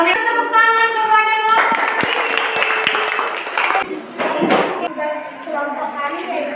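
Classmates in a classroom clap for a student group standing at the front, a burst of applause of a few seconds that rises out of ongoing speaking voices and fades back under them.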